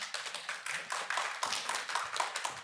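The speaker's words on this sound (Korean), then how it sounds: "큰 박수 부탁드립니다" An audience at a public HRD contest final claps in a soft, scattered patter of many hands, fairly distant and low in level, with no voices over it.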